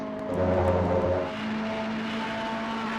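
Race car engine in a sim racing game, roaring at full throttle with a steady droning tone that dips slightly after a second, then holds level; no talk.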